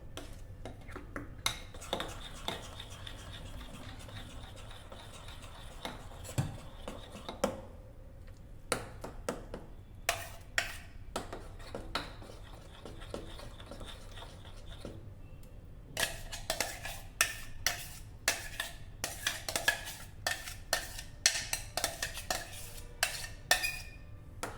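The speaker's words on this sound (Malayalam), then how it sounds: "മിക്സ് ചെയ്യുക" A spoon stirs and scrapes a mango ice cream mixture in a bowl, making irregular clinks and taps that come in scattered bursts at first and then in a denser, quicker run near the end, close and fairly quiet.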